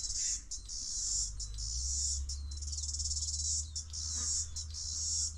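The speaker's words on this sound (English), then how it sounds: "Here are the cicadas." Loud, shrill cicadas buzz in pulsing waves with short gaps, over a low steady rumble in the background.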